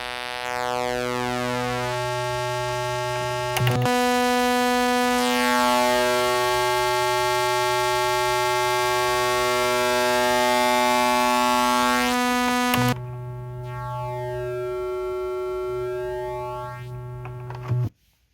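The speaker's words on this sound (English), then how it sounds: "There's also a shape control, which is basically pulse width and can act on all 3 waveforms." A Korg Monologue synthesizer oscillator drones steadily while its shape control, acting as pulse width, is swept, making the buzzy harmonic tone shift and phase, with pitch changes between sustained notes and an abrupt stop.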